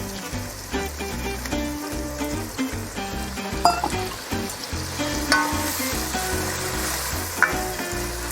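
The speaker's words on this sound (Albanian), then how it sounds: "T'i hedh pak ujë" Shredded cabbage and onion sizzle in a frying pan as water is added, a steady close hiss with occasional stirring clinks, all over a dense tonal background.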